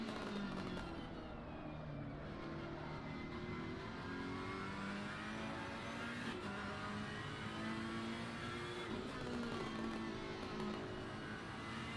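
A Ferrari GT3 race car in the Assetto Corsa Competizione video game, racing at Zandvoort: a continuous loud engine drone that climbs in pitch and drops back at gear changes, with other cars roaring close behind.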